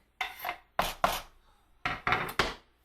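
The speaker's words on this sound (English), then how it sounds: "Let's go ahead and add the diced up garlic." Diced garlic tumbling into a bowl of meatloaf mixture with Worcestershire sauce and breadcrumbs, heard as a few short, soft, scraping thuds in two clusters, close and alone.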